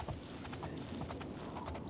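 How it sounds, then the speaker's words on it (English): Horse hooves clip-clopping in the video game Oblivion, a quick steady run of crisp hoofbeats, close and fairly quiet, with no talk over it. "Yay, look at me, I'm on a horse!"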